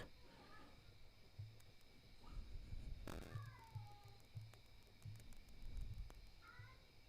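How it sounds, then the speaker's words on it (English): A cat makes odd, short warbling meows and chirps, quiet and close, over a faint hum, with brief louder yowls scattered through. "my cat is making strange noises at the moment."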